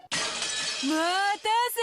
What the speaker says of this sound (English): the glass is gonna break, isn't it?